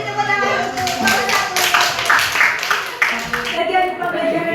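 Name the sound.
class clapping for group number 1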